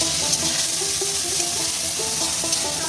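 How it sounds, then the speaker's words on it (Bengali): Shutki, dried fish, frying in a pan with a dense, close hiss and crackle, punctuated by light scraping stirs throughout. "শুটকা ভাজা"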